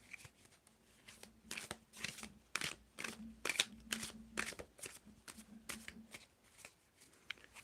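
Tarot cards are shuffled by hand in quick, crisp riffles and soft slaps, repeating in bursts close to the listener, with a faint low hum underneath.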